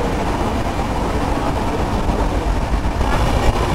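The 12857 Tamralipta Express, running from Howrah to Digha, gives a continuous loud rumble and rattle of moving coaches, with steady broadband clatter and no clear speech.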